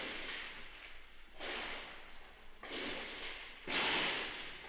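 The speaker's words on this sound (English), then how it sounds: "I'm about to play some tape that includes some gunshots" Gunfire on an old archival tape recorded in station offices: four muffled, faint bursts about a second apart, each a sharp crack fading into a hissy tape tail.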